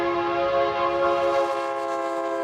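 A long, steady train horn blares loud and close for over two seconds, holding a rich chord without a break and fading slightly near the end, with no voices over it.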